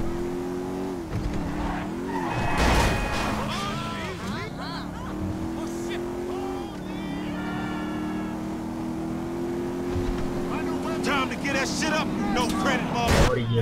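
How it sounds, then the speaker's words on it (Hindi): Car in Grand Theft Auto V skids with squealing tires and slams into a motorbike, engine droning steadily throughout, with a loud crunch of impact partway through. "बाइक वाले को ठोक दिए"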